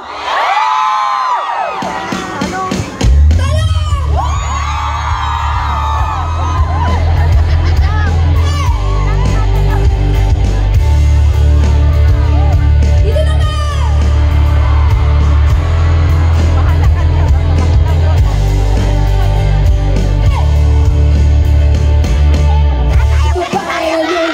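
A large concert crowd at a Barrio Fiesta event in Dubai screams, whoops and cheers loudly and without a break after a short count-in by the performer, over a deep rumbling background.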